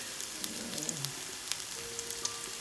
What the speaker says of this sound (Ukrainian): Ми до нашої пательні кинули цибульку. Тільки вона смажиться, чуть-чуть тушиться.